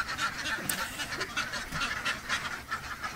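A large flock of ducks at a duck farm quacks continuously, a dense overlapping chorus of many birds near and far with no pauses.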